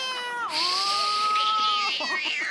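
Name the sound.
cat meowing, sound clip in a guessing game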